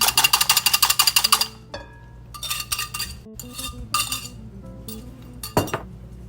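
A whisk beating a mixture in a bowl, rapid rhythmic metallic clinking in a fast even burst, then stopping and resuming in shorter irregular bursts with scraping taps against the bowl, close and fairly loud.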